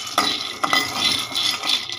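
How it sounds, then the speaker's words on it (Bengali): Bean seeds frying in a pan, with utensil stirring and scraping sounds and a soft sizzle, a few sharper clinks of metal against the pan near the start and middle. "এই তো এগুলি সিমের বিচ্ছি ভেজে নিতেছি"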